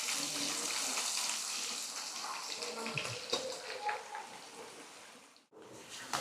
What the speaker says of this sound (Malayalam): ആദ്യം ഉള്ളി ഒന്ന് പൊരിച്ചെടുക്കണം